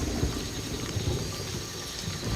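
Steady rain falls in a dense jungle at night, a continuous even hiss of drops with a low rumble underneath, with no voices.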